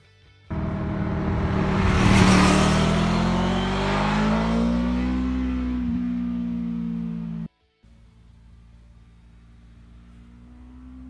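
A Honda VFR 800 VTEC motorcycle engine roars up suddenly and hard, rising in pitch as it accelerates, holds a loud steady drone, then cuts off abruptly before idling quietly.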